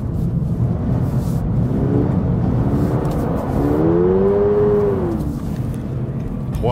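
A Toyota GR86 engine revs up, its pitch climbing and then easing off, loud and close over a constant rumbling drone.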